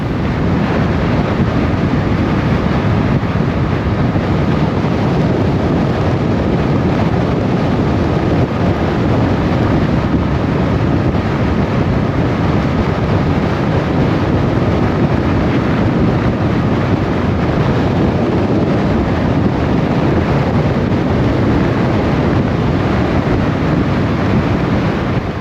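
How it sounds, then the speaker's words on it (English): Strong wind at an Outer Banks beach near Kitty Hawk buffets the microphone in a constant, loud roar mixed with surf, unbroken for the whole stretch. "It's horribly windy out here."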